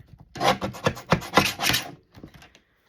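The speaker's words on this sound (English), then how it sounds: "Let's snip this little edge here first." A paper trimmer board slices along the edge of a handmade sunflower cover, a rapid series of raspy scraping strokes close by, then a few softer rubs as it stops.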